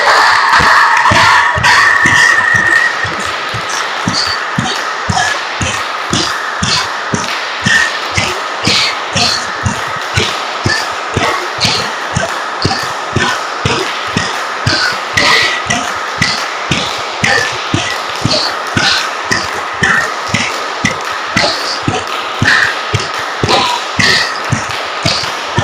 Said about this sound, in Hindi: कुछ क्षण ताली बजाएं पूरी ताकत से।